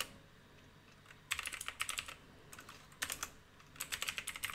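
Code being typed on a computer keyboard during a full stack Vue.js and Flask project, quiet bursts of rapid key clicks in several separated runs over a faint room hiss, close and alone without speech.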